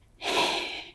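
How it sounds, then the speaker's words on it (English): A person breathes by heaving the neck and shoulders, giving one loud, effortful, gasping breath up close that lasts most of a second with no talk. "we start to use our neck and shoulders to breathe"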